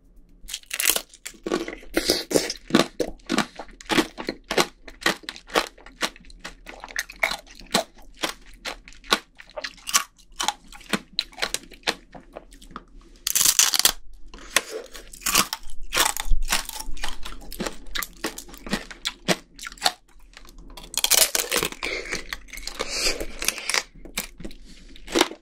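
Homemade strawberry tanghulu, with its hard sugar candy shell, is bitten and chewed close to the microphone. Loud crunches and crackles come in irregular bursts with brief pauses, and no one talks.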